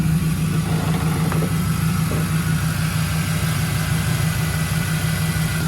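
A Chevrolet Camaro engine runs steadily, a loud, even low hum with a strong droning tone and faint small clicks, continuous and close with no voices.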